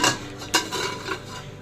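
A lid being placed on a cooking pot of mung dal with fish head, giving a couple of close metallic clinks and knocks over a faint background hiss, with no talk.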